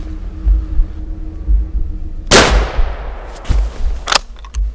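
A single loud shotgun blast cracks through the north Maine woods during a late-season grouse hunt, followed by a long fading echo and a second sharper report shortly after, over low outdoor rumble.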